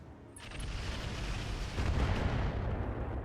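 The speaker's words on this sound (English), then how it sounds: "It's actually this Bradford back here firing the mortar." Mortar fire from a Bradford in the video game RogueTech, a muffled thump followed by a low rolling rumble that swells and lingers, moderately faint and fairly distant.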